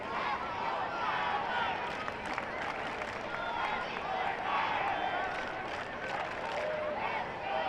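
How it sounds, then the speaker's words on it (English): A football crowd at a Ballard FC versus FC Olympia match raises a steady, broad roar of cheering and voices, with scattered claps and shouts running continuously at an even level throughout. "Crowd starting to find their voice."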